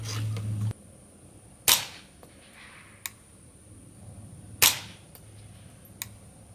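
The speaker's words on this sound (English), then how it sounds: "we're gonna make a couple practice shots just so you guys can hear just how quiet this thing is" Two sharp, muffled shots from a suppressed .22 rifle firing subsonic .22 LR rounds, a few seconds apart, each followed by faint mechanical clicks of the action in a quiet outdoor setting.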